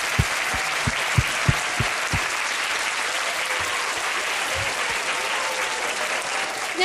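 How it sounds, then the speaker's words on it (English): An audience applauds steadily at a talk, dense clapping filling the room throughout, with a few louder individual claps near the start. "Give yourself a round of applause."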